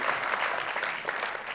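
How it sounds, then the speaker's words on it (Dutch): An audience at an information meeting about healthcare in Dokkum applauds, a steady, dense wash of clapping that holds at an even level throughout. "Applaus waard."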